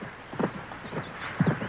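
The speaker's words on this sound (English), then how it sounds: "We'll start with a slow canter." A horse at a slow canter, its hooves clip-clopping in a short uneven rhythm of soft thuds, close and moderately loud with no talk.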